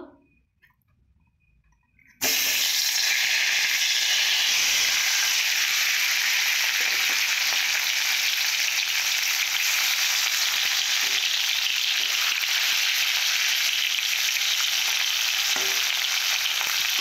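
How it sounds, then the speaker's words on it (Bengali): Fish hits hot mustard oil in a pan after a brief quiet moment, then a loud, steady sizzle runs on without a break, with a few faint ticks and pops under it. "প্রথমে ভালো করে গরম করে নিয়েছি, সরষের তেল দিয়েছি। এরপর মাছগুলো আমি ভেজে নেব।"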